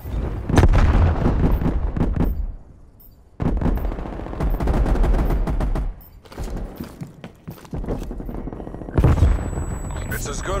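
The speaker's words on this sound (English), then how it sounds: "Sending frag grenade." A frag grenade explosion and gunfire from a video game firefight. Heavy booms and rattling shots come close and loud in several dense bursts with brief lulls, and a voice is faintly mixed in.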